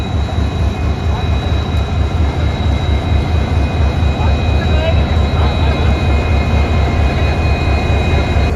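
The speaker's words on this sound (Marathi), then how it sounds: "हाय स्पीड चाचणी शंभर एकशे पाचच्या गतीने आपली गाडी आहे जी निघलेली आहे" A loud, continuous mechanical roar with a deep rhythmic throb of a locomotive engine running hard at about 105 km/h on a high-speed trial run in Beed, steady from start to finish.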